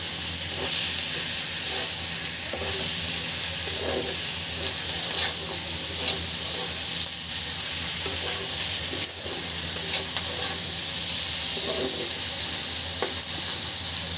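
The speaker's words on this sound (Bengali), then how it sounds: "ভর্তার জন্য যেহেতু পেঁয়াজটা ভাজি করছি, পেঁয়াজ শক্ত করব না" Onions frying in a pan for spicy fish bhorta give a steady, close sizzle and hiss with occasional stirring scrapes, continuous and without talk.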